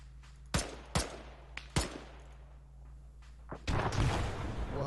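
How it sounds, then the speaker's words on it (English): Grenade explosion in a combat game assault on a military forward operating base, with scattered sharp gunshots before a heavier blast near the end, all fairly distant and moderately loud; no talking. "I think I'm gonna throw a grenade on it."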